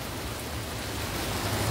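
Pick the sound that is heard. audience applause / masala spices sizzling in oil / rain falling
rain falling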